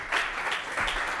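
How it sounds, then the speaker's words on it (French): A short burst of applause from a small crowd after a start-up presentation, steady clapping throughout, with no voices. "On peut l'applaudir."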